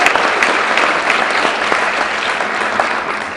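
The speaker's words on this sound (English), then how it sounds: "everybody give a round of applause for all the fathers" Dense, steady applause from a large conference audience at a LOHAS 2013 talk, sustained and loud throughout with no voices over it.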